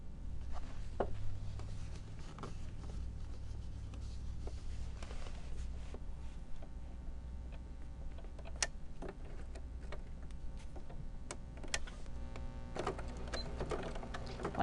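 A sewing machine runs steadily while stitching a fabric Christmas stocking, with a backstitch at the start and stop: a continuous close mechanical whir with faint ticks, and no voices.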